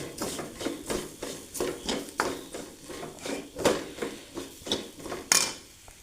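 A spoon or spatula scrapes and knocks against a pan while masala with chilli and turmeric powder is sautéed for Chettinad chicken curry, a steady series of close, rhythmic scraping clatters with no voices.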